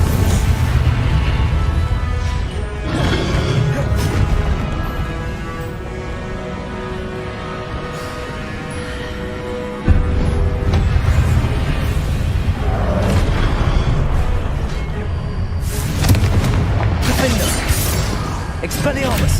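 Repeated Confringo spell explosions in the Hogwarts Legacy video game, heard as booming, crashing blasts amid dense combat noise and shattering debris, with a heavy low impact near the middle and bright bursts toward the end.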